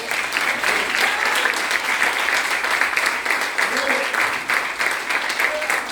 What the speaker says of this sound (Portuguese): e você aplauda ao Senhor